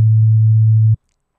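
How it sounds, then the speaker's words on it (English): A basic sine wave from the default patch of an FM synthesizer sounds as one steady, pure low tone for about a second, then stops cleanly into silence. "here's my default patch. And, oh, okay, basic sine wave"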